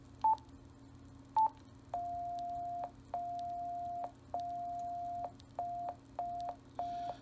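Slow Morse code tones keyed with an MFJ-564 paddle at about 4 words per minute: two short dits, then a run of long steady dahs and shorter beeps, clear and alone over faint background hum.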